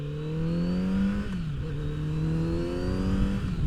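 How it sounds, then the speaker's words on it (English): A Kawasaki Z900 RS motorcycle engine hums steadily up close, its pitch rising, dipping briefly, then climbing again as it revs. "Oh, that motor just sounds so fantastic."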